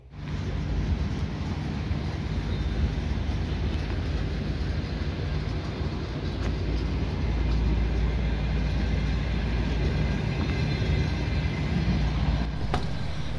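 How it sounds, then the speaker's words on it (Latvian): Passenger train bound for Zilupe, Latvia, running steadily with a loud, continuous rumble of wheels and carriage noise from start to finish, with no talking. "šitas vilciens iet uz Zilupi"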